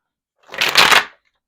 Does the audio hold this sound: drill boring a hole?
no